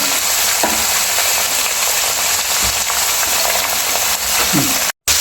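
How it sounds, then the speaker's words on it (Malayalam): Chicken curry with tomato, in the traditional roasted-coconut style, sizzles steadily in a pan while it is stirred, with a continuous loud frying hiss and occasional scraping knocks. "ഇനി നമുക്കതൊന്ന് ഇളക്കി കൊടുക്കാം"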